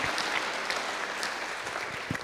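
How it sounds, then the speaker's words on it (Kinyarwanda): A church congregation applauding, dense steady clapping from many hands filling the room, sustained at an even level throughout. "Let's give a round of applause to our God."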